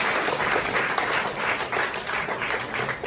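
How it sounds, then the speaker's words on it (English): A room full of people at a startup pitch day event applauds loudly and continuously, close and dense, with a few louder bursts of clapping. "a big round of applause for the associates."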